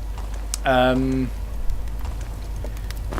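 Mouse buttons click in quick, faint bursts during Legend of Grimrock gameplay over a low background hum, with a brief tonal voice cutting in early on.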